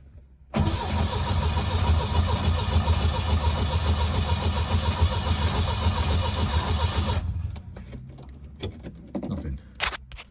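A 1970 Lancia Flavia Milleotto Berlina with a Solex PAIA 32 carburettor, set to mid choke, cranks loudly and continuously for about six seconds without catching. Faint clicks and rattles follow once the cranking stops.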